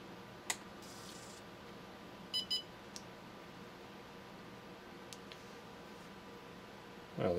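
A Fitel S148 fiber optic fusion splicer gives a short double beep amid a quiet room hum, with a few faint ticks and a brief louder clunk near the end.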